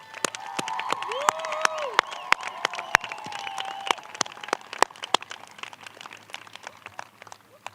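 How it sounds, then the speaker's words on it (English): Graduating seniors applauding at a high school graduation, scattered claps from a distant crowd in a large hall, with a voice talking briefly beneath it. "I would like members of the senior class to join me in a round of applause for all those who have helped and supported you"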